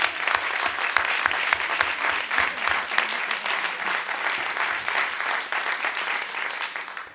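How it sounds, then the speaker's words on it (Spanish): Conference audience applause, fairly soft and steady, with many hands clapping continuously for about seven seconds. "Jo crec que l'aplaudiment, especialment per a aquestes tècniques"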